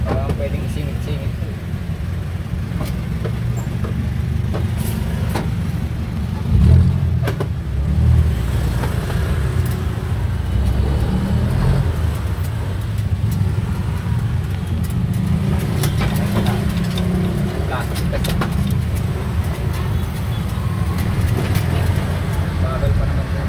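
Steady road traffic rumbles around an e-bike ride, with passing cars and engines droning continuously and a brief louder swell partway through, while riders chat over the noise.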